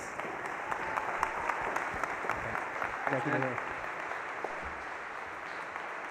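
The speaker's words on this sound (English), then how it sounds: "How about a round of applause?" A church audience on a Wednesday evening at Calvary Lutheran gives steady applause for a guest speaker, moderately loud and continuous, with someone briefly speaking over it midway.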